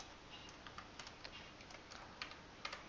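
Rapid, irregular clicking of keys on a computer keyboard, close and fairly quiet, with a few sharper taps standing out against a steady low background hiss.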